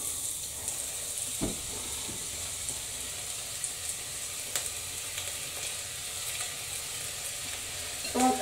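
Onion dropped into hot oil for a Goan cauliflower curry, a faint continuous sizzle and hiss with a few soft clicks of a utensil, no talking.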